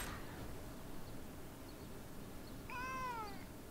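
A single cat's meow near the end, fairly faint and short, rising then falling in pitch over a quiet, steady room background with no talking.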